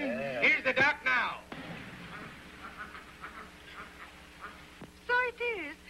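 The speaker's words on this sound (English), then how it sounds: "Here's the duck now." A duck quacks in an early sound-era drama, with a burst of quacks at the start and a few more near the end and faint, muffled talk in between.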